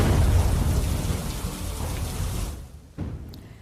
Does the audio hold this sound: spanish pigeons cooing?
no